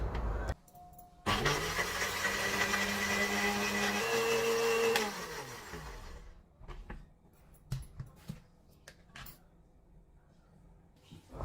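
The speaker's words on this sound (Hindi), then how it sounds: "अब मैं थोड़ी सी योगर्ट इसमें मिक्स करके तो इसको ब्लेंड करके" Blender whirring as it purees soaked cashews with yogurt, a loud steady motor drone for a few seconds that shifts pitch once, then winds down into scattered clatter and handling noises.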